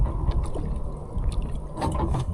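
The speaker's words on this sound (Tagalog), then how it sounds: "magsimula magsagwan gamit kamay" A small boat being paddled by hand after its engine died: continuous water sloshing and splashing with low rumbling, steady and close throughout.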